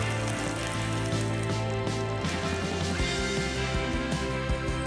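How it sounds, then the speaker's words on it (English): Rain falling steadily outdoors on the Croatian coast during a bikepacking trip, a continuous dense patter on surfaces with a low rumbling background, loud and unbroken. "Yeah, it's a bit rainy."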